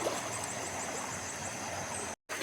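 A large river swollen after heavy rain, its rushing water producing a steady, broad roar that stays constant and fairly loud, with a brief dropout near the end.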